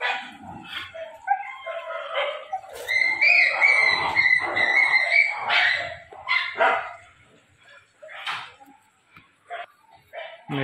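Dogs bark in sharp, irregular bursts at moderate distance, with some yipping and whimpering between barks, against an otherwise quiet background with faint voices.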